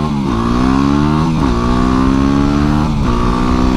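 A motorcycle with aftermarket suspension revs loudly and close while riding, its engine climbing steadily in pitch with two brief gear-change dips and no talk.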